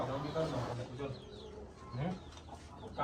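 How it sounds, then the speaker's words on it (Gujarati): Roosters and hens at a friend's farm in Dhoraji cluck and call faintly through a steady backdrop of murmuring voices and yard noise. "તો તમે જોઈ રહ્યા છો બહુ જાજા કુકડા છે એની પાસે"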